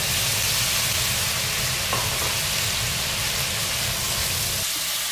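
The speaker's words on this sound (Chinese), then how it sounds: "油热后，倒入香葱段炒香，然后加入笋尖煸炒" Scallion pieces and bamboo shoot tips stir-frying in hot salted oil in a wok, a loud continuous sizzle with a few faint stirring clinks, the heavy crackle dropping away just before the end.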